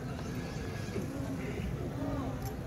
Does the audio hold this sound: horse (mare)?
yes